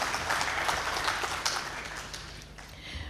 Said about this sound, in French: Applaudissez-le encore une fois.